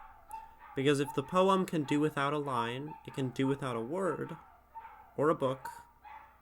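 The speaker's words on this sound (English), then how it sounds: "Sorry for the dogs barking." Dogs bark in the background beneath a man's continuous speech indoors, with the barks mostly masked by the talking.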